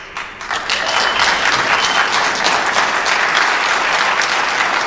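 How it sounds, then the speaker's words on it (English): Dense, loud audience applause fills a public hearing on the Rockaway Transco-Williams water permit, steady and sustained throughout with no talking. "Please hold your applause so we can hear her, please."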